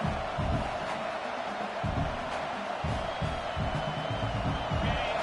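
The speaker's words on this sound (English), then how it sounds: "This crowd bringing the energy and noise early." A broad roar of a large stadium crowd fills the background, steady and distant, while a voice talks over it.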